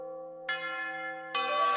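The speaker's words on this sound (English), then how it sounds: "The lunch bell echoes throughout the school building." A school lunch bell rings out through the building in two sustained, resonant strikes whose tones hang and echo, the second layered over the first, with no talking.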